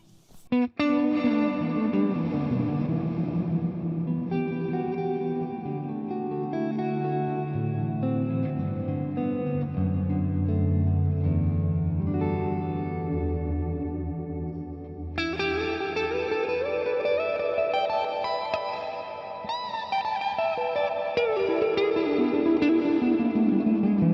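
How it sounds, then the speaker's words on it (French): A sustained, richly harmonic musical passage with a washy reverb tail using pre-delay blooming after each attack, the echo trailing behind the notes rather than starting with them. "le truc, c'est de chercher à pas envoyer la reverb en même temps que l'attaque"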